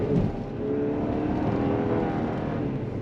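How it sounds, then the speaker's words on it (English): A 2024 GMC Acadia AT4 pushing on throttle through loose sand, with a steady engine drone and road rumble and a brief louder surge at the start. "Let's do on throttle in this loose sand."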